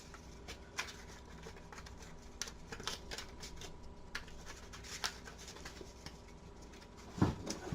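A deck of fantasy game cards is shuffled and handled on a table, producing soft riffling flutters and light papery taps, quiet and close, with a sharper snap near the end.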